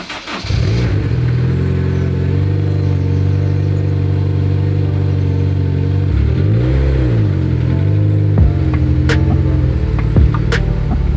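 Honda track car engine idling loud and close while being parked on stones, a steady rumbling drone that dips and rises with a couple of revs, plus faint clicks near the end.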